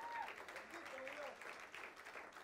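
A church congregation applauding during a Spanish-language sermon, a steady wash of clapping from a crowded room heard at moderate distance, with voices mixed in.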